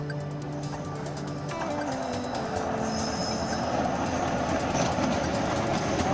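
A train passes near a road under a viaduct on the border of Juazeiro do Norte and Crato, its low rumble and rolling noise building steadily and growing louder, with a long tonal hum fading early on and no voices.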